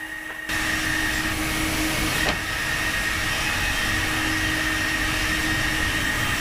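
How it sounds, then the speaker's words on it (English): A big woodshop at a factory, crowded floor to ceiling with machinery and wood milling machines, fills the space with a dense, steady roaring hiss and a faint whine, with a single sharp click partway through. "there are workshops filled floor to ceiling with machinery and wood milling machines"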